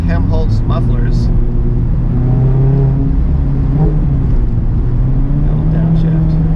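A 2019 Mazda MX-5 Miata fitted with a RoadsterSport Helmholtz muffler, its engine droning and climbing in pitch under acceleration, heard loud and steady from the cabin with someone talking over it.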